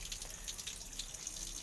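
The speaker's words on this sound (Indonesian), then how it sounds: "Nah, di sini kondisi keran sudah saya buka" Water flows steadily from an opened tap on a device installed in an animal pen, a continuous close hissing splash of even loudness with no talking.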